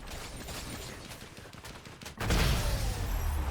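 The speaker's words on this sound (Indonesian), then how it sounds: "Shotgun." Shotgun blasts from Fortnite gameplay, a few sharp reports followed by a louder, denser burst of gunfire near the end, heard fairly faintly.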